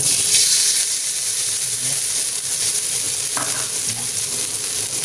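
Salt tipped into a still-hot wok of oil just used for frying fish in a Thai three-flavour fish dish, giving a loud, steady sizzle and hiss with a faint scrape partway through.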